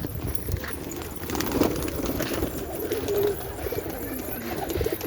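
Pigeons coo softly in low, rolling calls amid a busy coop, with scattered shuffling and tapping underneath at moderate distance.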